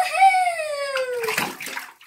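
A ferret being bathed in bathtub water, with a brief high tonal squeal at the start and then close sloshing and splashing that runs on for about two seconds.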